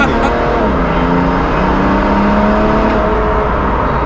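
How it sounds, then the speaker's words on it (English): A used car accelerates hard with traction control intervening, giving a loud, continuous engine drone from inside the cabin with wavering pitch as power is cut and restored. "Traction control kicked in there."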